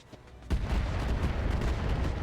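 Missile launcher fire from an MRM-20 variant in the mech strategy game RogueTech: a heavy booming salvo bursts in suddenly, then rolls on as dense, loud rumbling and crackling blasts.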